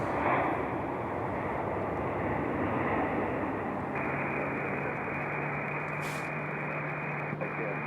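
An airliner departs from Raleigh-Durham airport with a steady, continuous engine roar and a low droning tone that persists at an even level, along with a brief faint radio-like chirp.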